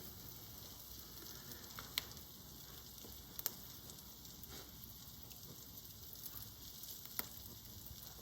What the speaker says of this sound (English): Let's turn our croutons over. They are toasting nicely.